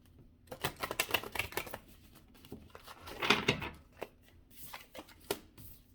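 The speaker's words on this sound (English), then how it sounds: "Let me give it one good shuffle." A tarot deck is shuffled by hand in a quiet room, a series of soft riffling flutters and card taps in short bursts, close and faint, with one louder flurry midway.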